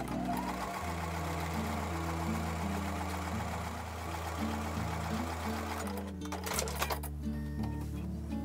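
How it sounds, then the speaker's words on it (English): A sewing machine stitches a seam on a duck-and-ducklings quilt block, its motor running as a steady, close, mechanical whir with a rapid needle rhythm, then briefly shifting and clattering near the end. "I'm going to stitch the centre column onto one of the sides."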